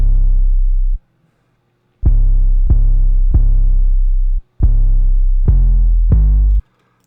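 Plugg-style beat 808 bass melody programmed in FL Studio with quick legato, six deep booming sustained notes that glide into one another, loud and close with short gaps between phrases, no talking.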